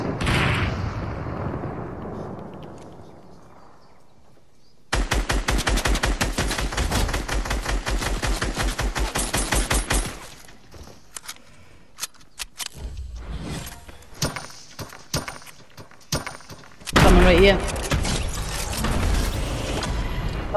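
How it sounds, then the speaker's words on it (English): Rapid gunfire in the Fortnite video game crackles in dense, loud automatic bursts, stopping briefly and then resuming in several volleys over about twenty seconds. "They're shooting another team."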